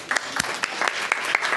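Audience applause greets a guest taking the stage at an evening event, a brief burst of crowd clapping with uneven individual claps, moderately loud and close.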